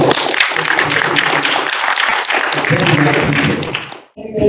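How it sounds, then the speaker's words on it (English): An audience at a corporate product launch applauds loudly and continuously for about four seconds, the dense clapping cutting off abruptly near the end. "let's give them a round of applause"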